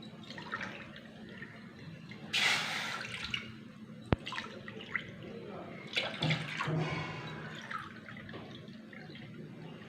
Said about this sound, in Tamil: 3 டம்ளர் தண்ணி ஊற்றிக்கலாம்.